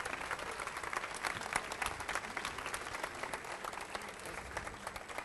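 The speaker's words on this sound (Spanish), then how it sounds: "Un aplauso, por favor." A conference audience applauds after a talk on the digital opportunity of video games for Latin America, with steady, dense clapping from a large crowd heard somewhat distantly for the whole stretch.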